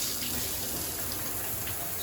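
Water sprays steadily from a cheap, newly installed shower head running hot, a dense, even hiss that holds constant throughout, close and fairly loud with no talking.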